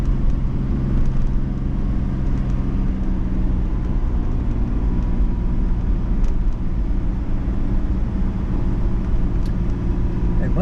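A mint-condition single-owner Mercedes Fintail with a 2.3-liter carbureted six-cylinder engine drives on the road, its steady low engine drone and road rumble continuous and close throughout.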